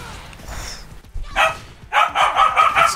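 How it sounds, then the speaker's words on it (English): A dog barks loudly and close by, one bark followed by a rapid run of several more, over a quiet room background. "We got dogs."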